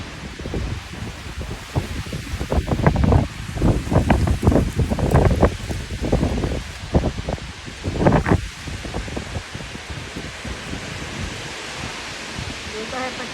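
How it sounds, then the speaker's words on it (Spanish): A strong, dry wind blows in Canada with no rain. Loud, irregular gusts buffet the microphone and rustle nearby foliage before easing into a softer, steadier blow toward the end. "Vientos espectaculares acá en Canadá. Saludando desde Guayras. Vientos secos sin lluvia."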